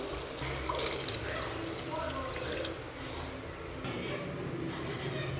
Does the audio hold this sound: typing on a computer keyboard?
no